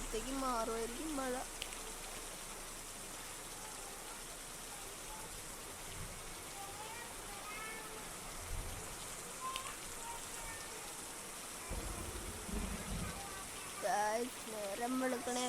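Video game rain falls as a constant soft hiss throughout, with a few faint tonal, voice-like sounds drifting in and out above the steady downpour.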